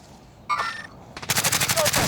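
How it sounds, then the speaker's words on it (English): Gunfire in Call of Duty Warzone trios: a short burst, then a rapid automatic volley of evenly spaced shots, loud and close, while a voice speaks briefly. "So he's shooting"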